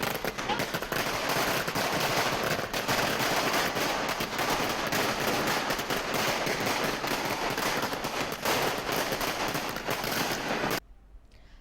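Party workers set off a long string of firecrackers at a political celebration in Telangana, a dense, loud, rapid crackling that runs continuously for about ten seconds before stopping abruptly.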